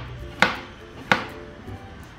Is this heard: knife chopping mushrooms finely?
yes